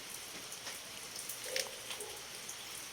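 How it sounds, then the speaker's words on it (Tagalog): Rain falls steadily outside, a faint continuous patter with scattered louder drops, heard from indoors in a quiet room. "Medyo umuulan dito sa amin."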